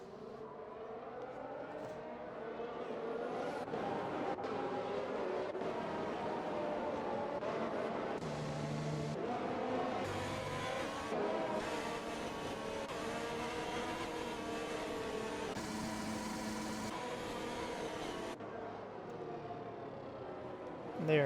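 Racing cars run behind a safety car during a Spain race in a racing video game, engines droning and shifting pitch continuously at moderate volume, with a voice talking over much of it.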